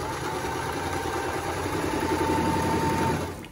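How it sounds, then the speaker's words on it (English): Sewing machine stitching over a fabric face mask with a hair tie sewn in, a steady continuous whirring motor hum that runs close and unbroken for several seconds, then stops abruptly at the end. "and then you're just gonna sew right over it."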